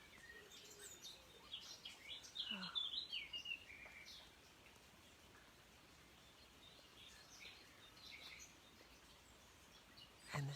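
Blackbird and nightingale sing in a rain-damp morning garden, faint and somewhat distant, with a burst of bright phrases early on and scattered calls later over a soft hiss of background noise.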